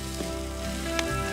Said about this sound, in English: Half cup of butter, which is already melting.